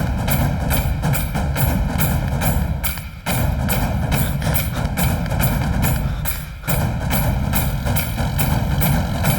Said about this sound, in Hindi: रोक ट्रैक्टर। चल नीचे उतर।